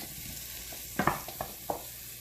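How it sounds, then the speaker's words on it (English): Potato and onion curry stirred in a pan, a handful of brief scraping, clattering strokes between about one and two seconds over a soft steady background hiss. "Give it a stir together."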